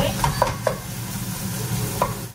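Meat and mushrooms stirred in a pan for homemade white pasta, with a few distinct scraping clinks of the utensil over a low steady kitchen hum, close by and no talking.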